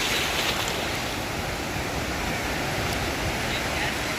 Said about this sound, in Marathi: बघा लाटा, किती मोठ्या मोठ्या लाटा येत आहेत